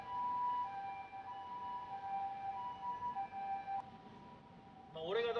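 An ambulance siren wailing past a street-corner rally near a train station, a steady two-tone whine that fades midway, with a fresh burst of sound at the end.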